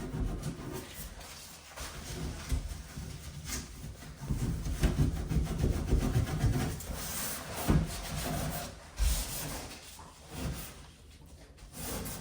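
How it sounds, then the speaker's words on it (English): A dried coat of finish on wood is scuff-sanded by hand with continuous scratchy rubbing strokes, close and moderately loud, rising and falling in an uneven rhythm without speech. "I'm gonna give it a quick scuff"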